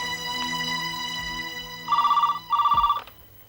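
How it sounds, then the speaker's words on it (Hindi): A telephone rings twice in electronic warbling bursts, loud and close, over a low steady hum. "तू फोन उठा।"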